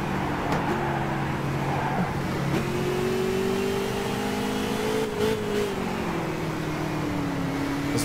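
A Shelby Cobra engine at Laguna Seca in a video game revs and drones continuously, rising in pitch between gear changes, loud and close throughout, with no speech.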